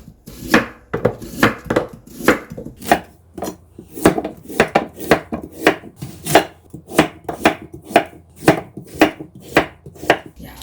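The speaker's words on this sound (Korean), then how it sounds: "무를 3등분 해서 좀 굵게 굵게 이렇게 썰어주세요." A knife chops radish into thick chunks on a cutting board, giving a loud, steady rhythm of sharp thuds about two per second, close by with no talking.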